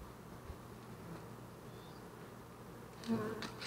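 Honeybees buzzing around a Flow Hive, a steady close droning hum with individual bees whizzing past the microphone now and then; no talking.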